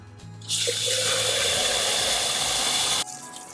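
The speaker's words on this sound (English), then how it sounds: "I'll just fill this up with a little bit of water" Water pours into a garden container holding used coffee grounds, a steady, close splashing rush that runs for about two and a half seconds before cutting off abruptly.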